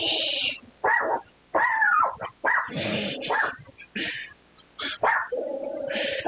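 A dog barks repeatedly in sharp, loud bursts with uneven gaps, close by and dominating the scene, with no talk over it.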